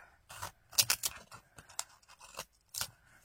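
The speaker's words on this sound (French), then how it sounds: "Mon ciseau pour le scotch à moquette." Small scissors snip through carpet tape in a handful of quick, crisp cuts, clustered early and then spaced out with short pauses, close and fairly soft.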